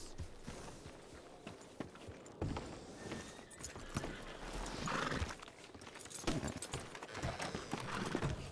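Horses clip-clop around a telegram station in a Western video game, hooves beating in a steady uneven rhythm with a neigh, continuous and fairly close, with no talking.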